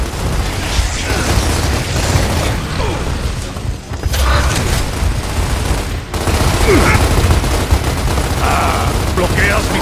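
Rapid bursts of Gears of War video game gunfire and mechanical clatter repeat through a busy, loud mix, with short shouted Spanish voices breaking in now and then.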